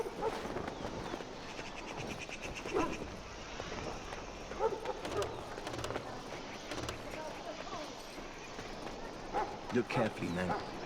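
A dog in Dragon Age Origins barks and whimpers in short bursts amid game sounds, mixed under a steady stream of spoken dialogue.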